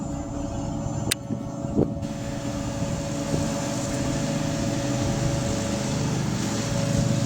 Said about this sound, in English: Okay, the blower is now working.